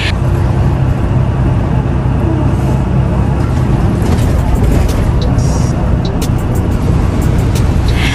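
Inside a city bus riding through snowy Yamaguchi, Japan, a constant loud engine and road rumble fills the cabin, with faint higher rattles and squeaks over it.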